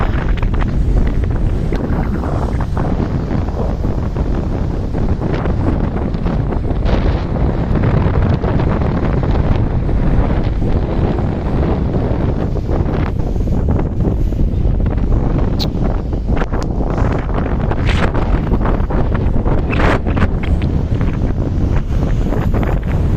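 Strong wind sweeps across the open deck of the passenger ship KM Dharma Kartika V between Banjarmasin and Surabaya, a loud continuous blustery roar battering the microphone with sea noise beneath.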